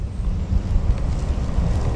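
Strong wind buffets the microphone outdoors while a kite is being launched, a loud continuous low roar with gusty rumbling throughout and no speech.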